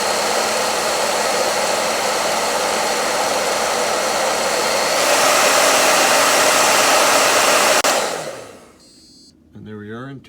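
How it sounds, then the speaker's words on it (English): A loud, steady hair dryer blows with a broad whooshing roar for about eight seconds, heating a sensor, then cuts off, leaving brief faint beeps and a short voice. "I also heat up using a hairdryer here just to show how an excess of heat will set off our sensor"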